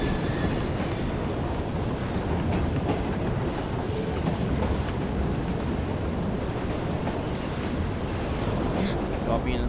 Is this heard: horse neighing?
no